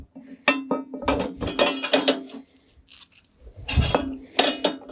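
Metal parts clink and knock in short irregular bursts while a gearbox bracket is mounted on a Woods RT72 tiller, the clatter close and uneven with quiet gaps between hits.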